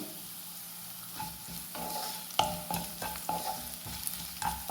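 Ginger, garlic, curry leaves and green chillies sizzle in hot oil in a pan, a steady crackling fry broken by the scrape and clink of stirring.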